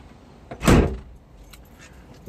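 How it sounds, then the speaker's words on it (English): A single solid, loud door slam on a 1990 Jeep Wrangler, close by, followed by faint rattles and a quiet background. "nice classic sound of the closing the doors"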